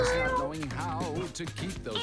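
Several cartoonish cats meow in the video game Mewgenics, with a run of close, expressive, wavering calls piling over one another for about two seconds.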